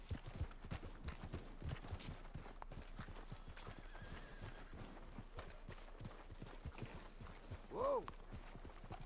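Horse hooves clip-clop steadily in Red Dead Redemption 2 and a brief whinny follows near the end, set in the game's quiet ambience.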